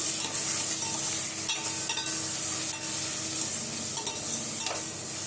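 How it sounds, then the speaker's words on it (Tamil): Onions sauté in a hot pan with garlic and curry leaves, giving a steady close sizzle and hiss with occasional stirring scrapes throughout, no voices. "இப்போ எல்லா வெங்காயத்தையும் போட்டு நல்லா வதக்கி விட்டுடலாம்"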